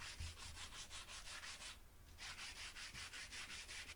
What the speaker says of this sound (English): I then gave it a good sanding down